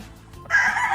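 At a gamefowl farm, after a brief quiet moment, a rooster's crow bursts in loud and close, lasting about half a second.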